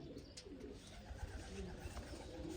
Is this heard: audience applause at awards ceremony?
no